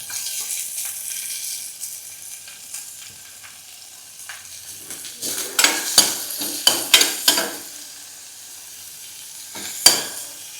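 Finely chopped onions with crushed ginger and garlic sautéing in a pan for mushroom masala, a steady sizzle broken by a burst of scraping stirs and clinks in the middle and one sharp knock near the end.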